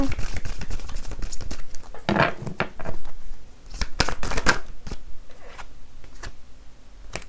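A deck of tarot cards is shuffled and handled close up, with quick riffling bursts and sharp flicks as cards are drawn and laid down, partly under someone speaking.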